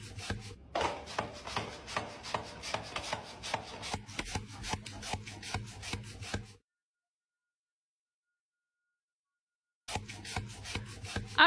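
A Slap Chop kitchen chopping device works through food in a steady run of quick, close clacking strikes with a rubbing scrape, then cuts out to silence before resuming briefly.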